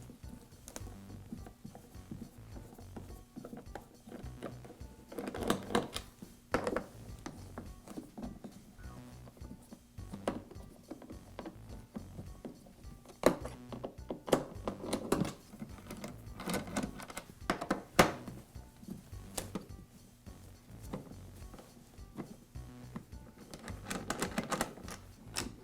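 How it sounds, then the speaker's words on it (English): A wrench works screws loose on the top cover of a DeWALT planer, making faint, irregular ticking and clicking taps scattered through a quiet stretch with no talk. "I can use the wrench that came with the planer for replacing the knives to remove these screws."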